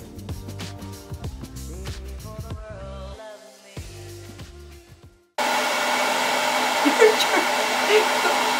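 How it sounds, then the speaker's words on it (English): A hooded salon hair dryer switches on partway through, its steady, loud, broadband whoosh taking over after a stretch of music and running without a break to the end. "This is actually my first time in a hooded dryer, okay?"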